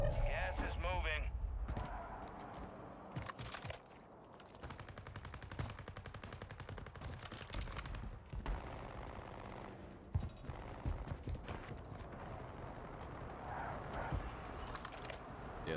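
Gunfire on a bridge in the shooter Warzone. Rapid automatic bursts and scattered single shots keep going for the whole stretch, mixed with an ongoing voice.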